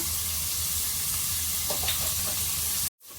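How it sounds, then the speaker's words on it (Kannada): Carrots and beans frying with masala powders in a pan, a close, dense sizzle and crackle with a few stirring scrapes, broken by a sudden brief cutoff near the end. "ಇವಾಗ ಕ್ಯಾರೆಟ್ ಅಂಡ್ ಬೀನ್ಸ್ನ ಹಾಕ್ಕೊಂಡು ಮತ್ತೆ ಸ್ವಲ್ಪ ಫ್ರೈ ಮಾಡೋಣ"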